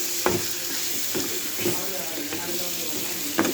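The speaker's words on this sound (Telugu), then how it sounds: "కొంచెం కరివేపాకు, కొంచెం కొత్తిమీర వేసుకొని కొంచెం బాగా కొద్దిగా ఫ్రై అవ్వనిచ్చి" Curry leaves and coriander sizzle in a hot pan, a steady close frying hiss broken by a few soft stirring scrapes, with no talking.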